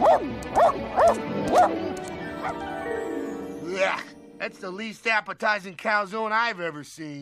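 A dog gives several sharp yips and whimpering barks in quick succession, then a person speaks over a quieter background.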